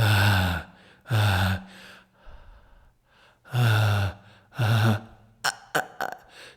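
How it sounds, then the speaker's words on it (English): Several breathy, voiced exhalations of the Arabic letter Haa pushed through narrowed vocal cords, each a short loud burst, with quieter rasping breaths and a few sharp clicks near the end. "narrow the gap and then pass air through it"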